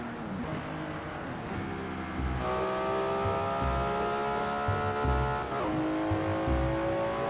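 Nissan GT-R R34 engine accelerating hard in Forza Horizon 4, a loud continuous roar with rising revs and gear shifts, climbing in pitch and dropping briefly before building again.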